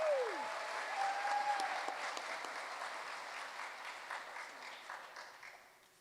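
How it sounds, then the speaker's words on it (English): An audience at a city mayor's education awards ceremony applauds an award recipient, with sustained clapping that slowly fades out. A brief whistle-like tone sounds near the start. "big round of applause for Nickajack Elementary School"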